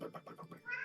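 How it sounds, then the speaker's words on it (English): A street cat that wandered into a house during a party gives a single short, fairly faint meow, drawn out over under a second with no talk over it. "Was that a cat?"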